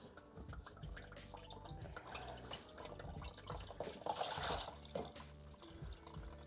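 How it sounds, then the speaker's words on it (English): Water runs and drips steadily from an opened air-conditioner condensate drain line after its cap is removed, a continuous close trickle with slightly louder splashing near the middle. "So when I take this cap off, we're gonna get a little bit more water coming out of the drain."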